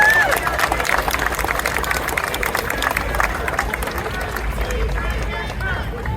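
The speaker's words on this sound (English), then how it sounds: "I want another round of applause for this." Outdoor crowd applause at a Seattle mayoral event, loud and steady for several seconds with clapping and crowd noise blended together, no voice standing out.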